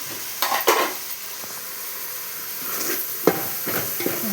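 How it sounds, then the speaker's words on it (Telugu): Tomatoes and mutton curry being stirred in a frying pan, with a steady sizzle and a few scraping strokes and light clinks of the spoon against the pan, up close and without talk. "బాగా కలుపుకోవాలి ఒకసారి"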